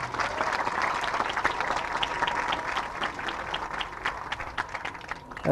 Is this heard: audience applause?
yes